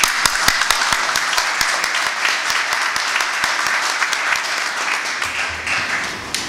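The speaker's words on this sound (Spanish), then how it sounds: "Por favor, un aplauso." An audience at an evening academic event claps, with several close, sharp individual claps standing out over the broader steady applause.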